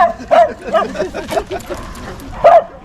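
At an outdoor parkrun course at Pennington Flash, a dog gives a few short yips and barks close by, with a person's voice mixed in among the sounds.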